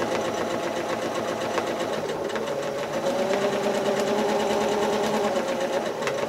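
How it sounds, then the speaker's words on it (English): A sewing machine stitches steadily as the foot pedal is pressed to speed it up. A continuous close-up whirring hum shifts and rises slightly partway through, with no talking. "So I kind of press my foot pedal just ever so slightly to speed up as I stitch the initial shape"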